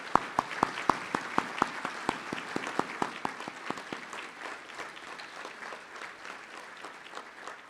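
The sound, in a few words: audience applause for staff at breakfast event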